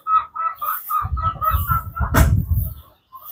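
Chickens cluck in a rapid series of short, nasal calls, close and loud, with a brief rustle and flapping in the middle before one last cluck.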